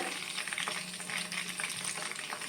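Soya chunks fry in a pan for a soya chilli starter, a loud close sizzle and crackle with scraping stirring strokes running throughout.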